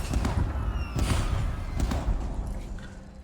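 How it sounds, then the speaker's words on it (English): Heavy explosions from a massive Borka unit in the real-time strategy game C&C: Rivals, several booming thuds close together at the start and around the one-second mark, followed by more blasts and rumbling in the background. "another carnage explosion of the left side by that massive Borka"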